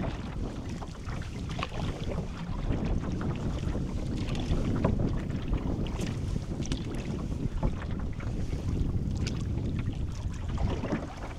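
A canoe glides across Nellie Lake in Killarney, its paddling softly washing beneath steady, close wind buffeting that persists throughout with no talking.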